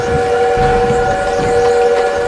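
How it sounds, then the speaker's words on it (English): A steam-era train in a World War II shooter game sounds a sustained, steady whistle tone layered over a loud, continuous rumble of rolling wheels, unbroken for the whole stretch. "need to stop that train!"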